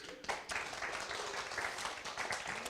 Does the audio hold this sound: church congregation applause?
yes